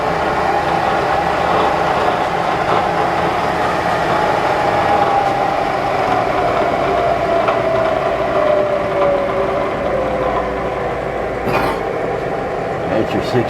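A 2 hp Bridgeport Series II Special milling machine running at 60 RPM, a steady low mechanical drone with a whining tone that slowly shifts pitch, close and continuous, with a brief clatter near the end.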